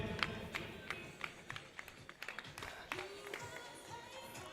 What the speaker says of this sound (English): Ladies and gentlemen, round of applause for Nikki.